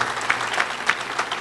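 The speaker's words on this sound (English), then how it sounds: "I just want you to give a round of applause." An audience at an event gives a brief round of applause, a short burst of clapping with a few sharper individual claps standing out.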